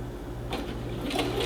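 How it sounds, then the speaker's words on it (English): A sewing machine edge-stitches around a jacket facing with a fast, steady mechanical whir and needle chatter, close and continuous, with no talking. "So I'm going to do a couple stitches, do a couple back stitches, and then go forward."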